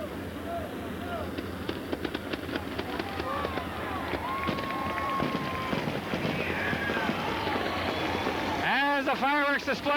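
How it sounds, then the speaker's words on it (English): Fireworks display over a speedway at a 1988 sprint car race, with sharp bangs and crackling pops scattered through a busy crowd ambience, and a commentator speaking over it. "The fireworks display comes to an end here."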